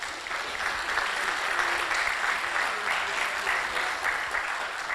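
Audience applause at a formal legal conference honoring a European Court of Justice judge, steady broadband clapping from a seated crowd sustained evenly for the full stretch without pause.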